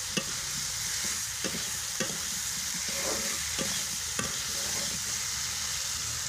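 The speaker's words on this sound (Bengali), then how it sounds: "ভালো মতো মশলাটা এখন কষে নিচ্ছি।" Spice paste with boiled eggs and potatoes frying and being stirred over a clay stove, a steady close sizzle broken by regular scraping strokes of the spatula, with no voices.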